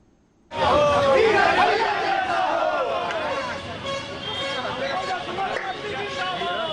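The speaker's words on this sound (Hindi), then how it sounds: "नामांकन के दौरान हजारों की भीड़ उमड़ी।" A large crowd of thousands gathers at an election nomination, a dense, steady babble of many voices with shouts that starts abruptly and stays loud throughout.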